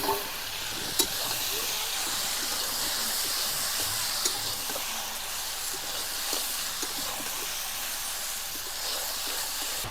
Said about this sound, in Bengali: ভাজা ফুলকপি আর আলু দিয়ে দেবো।